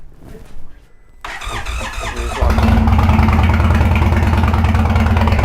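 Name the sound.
motorcycle engine starting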